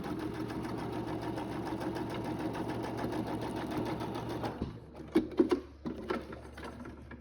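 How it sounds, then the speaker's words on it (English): A sewing machine runs steadily, stitching fabric for foundation paper piecing with a fast, even mechanical whir, then stops, followed by a few close clicks and handling knocks. "So again, we sew that up. Put it right on the very edge."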